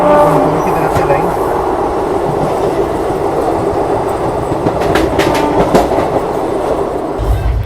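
A long-distance passenger train runs along the tracks with a continuous loud rumble and rhythmic clickety-clack of wheels over rail joints, plus occasional sharper metallic clanks, heard from inside the moving carriage.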